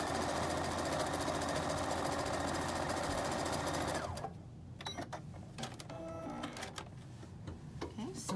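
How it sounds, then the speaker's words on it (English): A sewing machine stitching a quarter-inch seam along the edge of fabric for a bow-tie quilt block, running fast and steady, then stopping halfway, followed by quieter handling clicks and shuffles. "So I'll come over here to the sewing machine and do just that."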